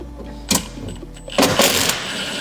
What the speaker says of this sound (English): You're going to take your impact or socket with an H6 Allen bit on it.